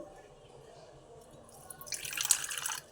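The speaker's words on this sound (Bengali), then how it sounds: "অল্প জল দিয়ে দিলাম দিয়ে এখানে একটা পেস্ট রেডি করে নিচ্ছি" A little water poured from a tap into ground cumin and other spices to make a paste, a brief close splashing trickle building toward the end over quiet room noise.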